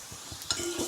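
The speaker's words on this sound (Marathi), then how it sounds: "तेलामध्ये छान हा ठेचा परतून घ्यायचा आहे" Garlic and green chili thecha sautés in hot oil with onions for a dry potato bhaji. A faint, brief sizzle carries a couple of soft spatula scrapes.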